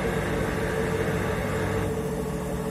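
Steady, dense mechanical whir with a low hum from a Motorola front-load washing machine drum spinning at 1200 RPM, continuous and fairly loud with no pauses.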